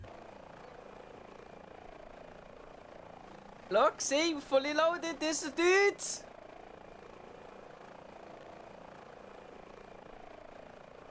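A helicopter in Microsoft Flight Simulator 2020 gives off a low, steady engine drone that runs quietly through the whole stretch, while someone speaks briefly over it in the middle.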